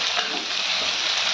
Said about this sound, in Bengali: কড়াটা একটু নুন হলুদ দিয়ে ভালো করে ভেজে নেব